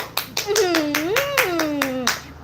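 A few sharp hand claps in an irregular rhythm, close by, mixed in with a child chattering excitedly throughout.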